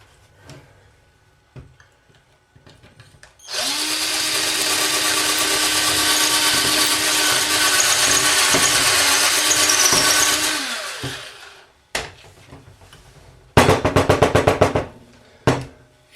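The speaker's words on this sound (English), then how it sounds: "I'll just run the drill through, and then the pin should fit in quite nicely" A power drill runs through a pin hole in one sustained whine of about seven seconds, close and loud, followed by a few short clicks and a brief burst of rapid ticking.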